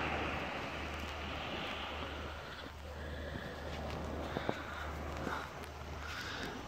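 Waves and wind on a Red Sea beach at low tide near Marsa Alam, a faint, steady wash of surf with wind buffeting the microphone and a few small knocks, with no talking.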